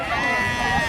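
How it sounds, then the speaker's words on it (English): A sheep bleats at an agricultural show in Berkeley, a short, steady wavering call heard close by over a continuous blur of crowd chatter. "There's a sheep."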